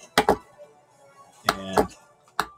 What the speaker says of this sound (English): You can hear the solenoids going off.